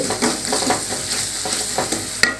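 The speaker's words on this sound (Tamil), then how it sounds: "அதை இதோட சேர்த்துட்றேன். சேர்த்துட்டு நல்லா வதக்கிக்கலாம்." Chopped tomatoes sauté in a hot pan for a hotel-style salna, a steady close sizzle broken by rhythmic scraping strokes of stirring, with a sharp clink near the end.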